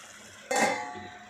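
A lid set onto a cooking pot of Telugu thotakura pappu (amaranth leaf dal) with a single sharp metallic clank that rings briefly and fades, with quiet room tone before it.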